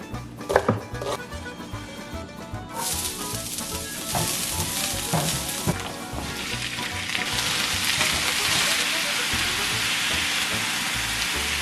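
Ground turkey frying in a pan, with a steady loud sizzle that swells after a few seconds and keeps hissing, plus a few scraping stir and utensil knocks early on and no voices.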